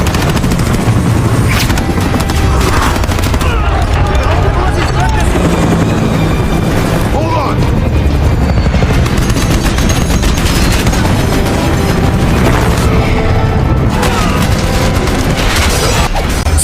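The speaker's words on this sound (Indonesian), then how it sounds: "Mereka kemudian mulai menyerang para penjaga kereta dengan menggunakan helikopter." Film action scene of a helicopter attacking train guards, with rotor thrum layered under bursts of machine-gun fire and booms, loud and dense throughout, with voices mixed in.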